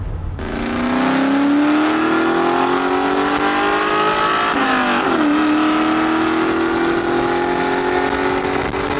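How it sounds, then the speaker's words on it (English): Blue Ford Mustang Mach 1 cruising on an open road: a loud, steady engine drone with a brief gear change midway, then the tone climbs again as it pulls on. "take the nice Blue Mach 1 on a cool drive"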